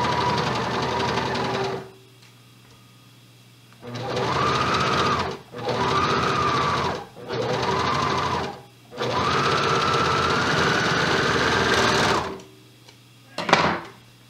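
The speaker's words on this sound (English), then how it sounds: "then just sew it together" A sewing machine stitches a thumbhole cuff onto a sleeve in five loud, close bursts of rapid mechanical whirring, separated by short pauses, ending with a brief clunk.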